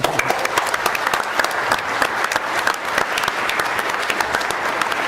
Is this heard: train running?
no